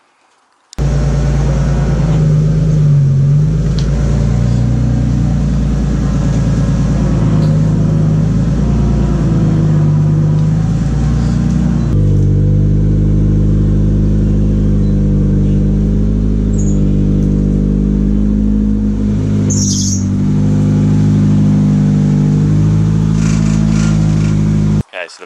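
Engine of a Sil80 track car idling steadily as the car is moved, a loud, close, continuous low rumble that shifts slightly in pitch partway through, running alone without talk.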